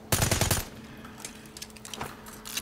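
PPSh submachine gun firing in a video game: a loud rapid burst of automatic fire at the start, followed by a few fainter scattered shots and clicks.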